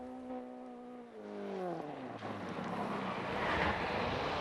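Phil Walker's Ford Escort rally car, suffering a blowing exhaust in the 1989 Scottish Rally Championship, sweeps past with an engine note that drops in pitch as it goes by, then turns into a rising rough roar.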